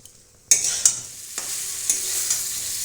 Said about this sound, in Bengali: এখন শুধু মশলাটা দিয়ে আমি কষে নিচ্ছি